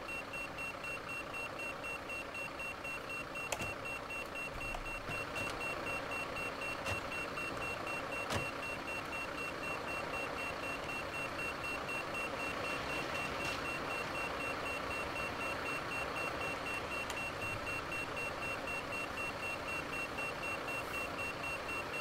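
Fire alarm sounding continuously with a steady high electronic tone and repeating beeps, loud and close throughout.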